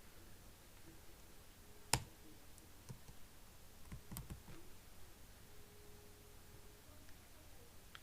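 Computer keyboard typing for a typing tutor lesson, fingers starting from the home row: quiet, scattered key clicks with one sharp louder tap near the start, alone without talk.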